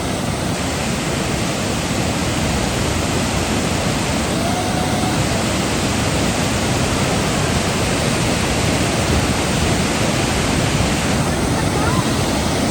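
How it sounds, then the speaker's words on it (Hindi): Roaring waterfall pouring down at Babusar Top, a steady broadband rush of falling water that stays loud and close throughout, with wind buffeting the microphone. "इधर क्या कमाल की आबशार। ओए होए होए होए, नीचे ये पानी आ रहा है"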